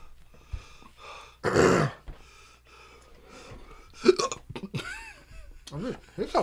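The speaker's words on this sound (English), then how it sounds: "Probably got hiccups." Several sharp, short hiccups after eating super-hot pepper pretzels, scattered irregularly among quiet breaths and murmured talk, close to the microphone.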